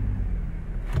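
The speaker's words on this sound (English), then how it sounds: "One thing you have to know about this car is the exhaust sound." The exhaust of an Audi S5 coupe with a supercharged V6 gives a brief, deep, steady rumble close by, heard alone for about a second.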